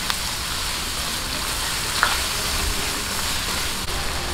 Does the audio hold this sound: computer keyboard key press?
no